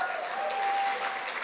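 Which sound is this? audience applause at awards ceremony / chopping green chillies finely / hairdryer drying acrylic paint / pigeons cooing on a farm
audience applause at awards ceremony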